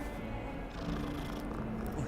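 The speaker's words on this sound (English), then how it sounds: "I swore to myself I would pet every kitty I came across." A soft, steady cat purr in Hogwarts Legacy rumbles low and close, continuous throughout with no talking.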